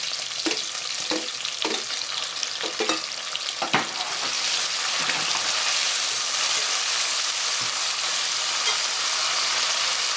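Onions and tomatoes fry in oil in a pan for a dry fish curry, a steady bright sizzle that grows louder and more even after a few sharp stirring scrapes at the start; no talking.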